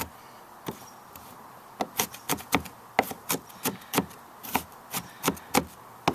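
A sharp kitchen knife rocks through winter keeper onions on a cutting board, giving a steady series of close, crisp chops that start sparse and settle into a regular rhythm, with no voices.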